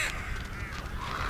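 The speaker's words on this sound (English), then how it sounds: "Stop crowing! Go away!" In-game crows from Tearaway Unfolded keep up a rough, hoarse cawing chorus, steady and fairly loud across the short stretch with no voices.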